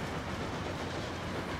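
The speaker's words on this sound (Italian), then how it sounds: "stiamo usando un treno dell'anteguerra qua, guardate, è ancora il modello iniziale, infatti questo treno ha 43 anni" An old pre-war train, the original starting model and 43 years old, runs in the Transport Fever game with a dense steady rumble and a light clickety-clack, loud and continuous, with no voices.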